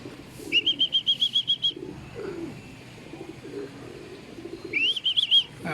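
Racing pigeons return to the loft during a training toss in San Jose, Nueva Ecija, with two bursts of rapid rhythmic wing flapping and a thin whistling tone over a soft, low background.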